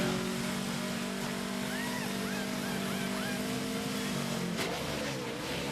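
A NASCAR Nationwide stock car at Homestead tries to pull off pit road after losing first gear, its engine droning at a strained, bogged-down pitch with a brief rev flare near the end, loud and close with no talk.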